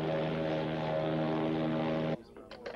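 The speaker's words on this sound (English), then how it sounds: "The Air Coupe just passed him." A red Air Coupe propeller plane rolls past on an airport taxiway, its engine a steady loud drone with a constant hum that cuts off abruptly near the end, leaving quieter background noise.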